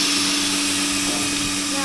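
Milking machine starting up in a dairy cow barn, a steady mechanical hum with a constant tonal drone running throughout, close and fairly loud.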